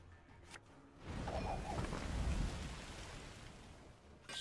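Torrential Rain card effect in the video game Gwent, a sudden swell of dense rain hiss with low rumbling that sustains steadily after a brief click, quiet and without voices.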